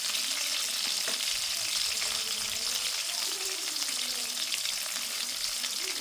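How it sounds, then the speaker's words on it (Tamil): Green chillies, onions and curry leaves frying in hot oil in a pan, a dense, continuous close sizzle with faint stirring under it. "இப்போ பச்சை மிளகாய் வெங்காயத்தை போடுவேன். ரொம்ப கருவேப்பிலைலாம் சேர்த்து போட்டு"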